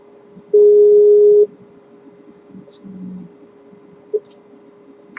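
One steady electronic phone tone sounds for about a second over a quiet line, followed by faint clicks and a brief blip.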